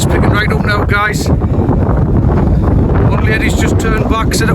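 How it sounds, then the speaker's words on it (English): Strong wind on an open moorland hilltop along the Pennine Way near High Cup Nick, buffeting the microphone as loud, continuous rumbling gusts, with brief talk over it. "Wind's picking right up now, guys."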